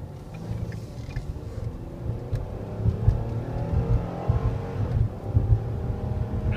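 A 2013 Ford Explorer Police Interceptor AWD with a 3.7 engine accelerates hard, its engine note climbing in a rising roar that stays loud and close throughout, with no one talking.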